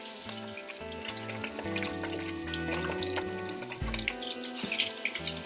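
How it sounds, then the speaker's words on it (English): A whole fish fries in hot oil in a Dutch oven, a steady close bubbling and crackling sizzle with faint metallic tones, continuous and moderately quiet with no voices. "So I'm sure you can hear that bubbling away in the background."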